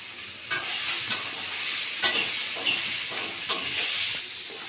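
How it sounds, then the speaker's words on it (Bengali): Vegetables fry in a little oil for mixed fried rice, keeping up a steady close hiss of sizzling broken by several scraping stirs of a spatula at regular intervals, with no voices. "আমি কিন্তু অল্প অল্প তেল দিচ্ছি"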